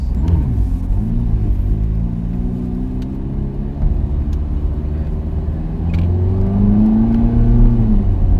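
A Ferrari driven through the streets of Nice, France, its engine rumbling steadily and rising in pitch as it accelerates, close and loud from inside the car, with no talk over it.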